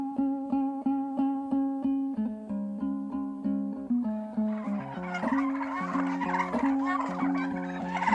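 Domestic turkeys gobbling in a backyard flock, repeated rhythmic warbling calls at a steady pace, fairly close and continuous with no talking.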